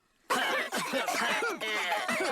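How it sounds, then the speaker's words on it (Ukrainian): A cartoon character coughs repeatedly in short, rough bursts, loud and close, with a hint of strained throat sounds between them. "Заразилися кашлем від Педро?"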